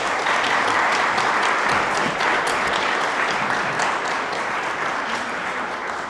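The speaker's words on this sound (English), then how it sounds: "Can I ask you all to please stand and give these candidates a round of applause?" A standing audience at an Ames election forum applauds the candidates, a loud, continuous round of clapping that holds steady throughout and tapers only slightly toward the end.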